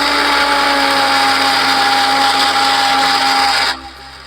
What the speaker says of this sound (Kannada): ಈಗ ನಾನು ಮಿಕ್ಸಿ ಮಾಡ್ಕೋತೀನಿ.